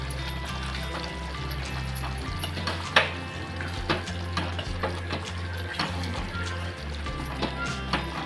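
Liver fry with a roasted coconut and coriander paste is stirred in a pan, giving soft sizzling with repeated scraping and clinking strokes of a spoon against the pan over a low hum, fairly quiet and close.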